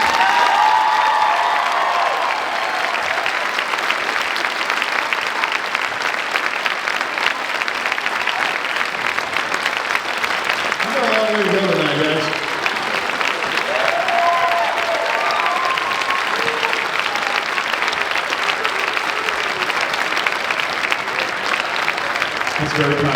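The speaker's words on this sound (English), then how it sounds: "One final round of applause for Mr." Sustained audience applause with cheers at a high school indoor marching band concert, loud and steady for over twenty seconds, with a voice briefly speaking over the crowd near the middle.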